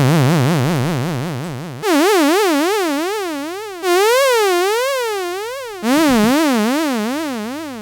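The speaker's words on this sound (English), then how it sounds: "as I'm going to change the modulation amount, listen to the sound what's happening." A Moog Minimoog synthesizer tone with oscillator 3 modulating it, giving a loud wobbling vibrato-like pitch warble that speeds up and deepens as the modulation amount changes, restarting in four decaying notes with no talk.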